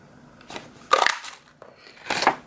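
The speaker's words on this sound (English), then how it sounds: "using the Artisan label punch, we're going to punch out our sentiment" An Artisan label punch clamps down on paper to cut out a sentiment, giving a few short, crisp crunching presses, close and clear with no talk.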